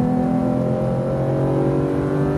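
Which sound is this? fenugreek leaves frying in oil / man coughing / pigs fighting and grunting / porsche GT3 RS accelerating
porsche GT3 RS accelerating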